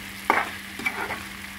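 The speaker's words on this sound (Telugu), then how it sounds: "మధ్య మధ్యన అయినా మనం ఇలాగ కలుపుతూ ఉండాలి." Chicken fry being stirred in a pan, a couple of close scraping spatula strokes over a low sizzle, alone without talk.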